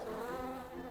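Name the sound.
bee buzzing in the video game Preserve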